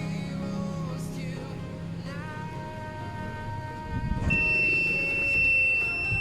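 Continuity beep from a multimeter probing a shorted 12-volt rectifier diode on an Android LED TV mainboard, a steady electronic tone that holds continuously, louder and higher in its second half.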